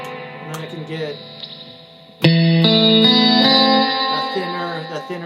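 Surf guitar with its pickups wired in parallel rings out a thin, bright tone soaked in effects and reverb, with sparse notes at first and then a loud strummed chord sustaining and slowly fading.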